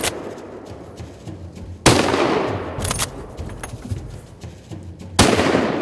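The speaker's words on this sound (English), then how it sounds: "A second shot and it's down." Three loud rifle shots ring out at a driven wild boar hunt in German woodland, each a sharp crack with a long rolling echo, spaced a few seconds apart.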